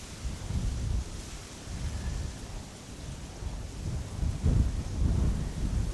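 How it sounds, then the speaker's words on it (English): Strong westerly wind gusting at Amsterdam Schiphol Airport near runway 18R, a steady roar with buffeting rumble against the microphone that swells in heavier gusts, with no voices. "The wind has picked up and has become severely more westerly."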